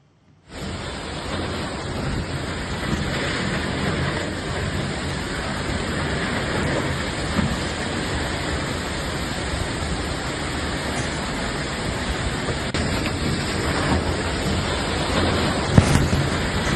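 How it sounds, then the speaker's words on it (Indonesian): Strong wind with heavy rain in Sanggala Utara, Tana Toraja, a loud continuous roar of gusting wind and pouring rain that starts abruptly and holds steady for the whole stretch, with a few sharp knocks near the end. "merekam angin kencang yang terjadi di Kecamatan Sanggala Utara minggu kemarin"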